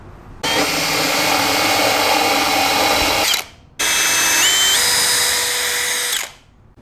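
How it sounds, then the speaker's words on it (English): Power drill boring through timber for a lean-to patio backing board, first with a Forstner bit and then a 10mm bit: two loud, steady whirring bursts of about three seconds each, separated by a short pause, the second rising in pitch as it cuts. "then I'm going to take my 10mm drill bit, I'm going to drill straight through"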